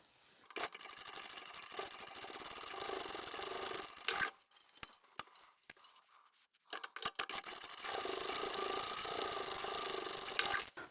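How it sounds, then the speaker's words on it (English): A sewing machine runs in two sustained bursts, double stitching along the seam of a zippered fabric pouch, with a short pause of faint handling clicks between the runs; close and steady, no voices. "now we can go back to the machine, and with our seam allowance of 1 centimetre or 3/8 of an inch, double stitch right along here and here"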